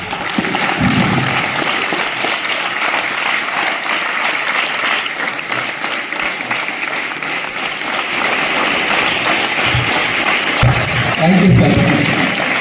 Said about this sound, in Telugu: ఎమ్మెల్యే గారికి బిగ్ క్లాప్.